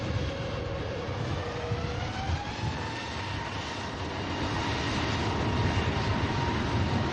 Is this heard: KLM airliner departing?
yes